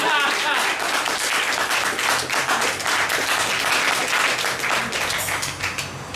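Audience clapping after a street poet's poem, dense and steady for about six seconds, with some voices mixed in before it tapers slightly at the end.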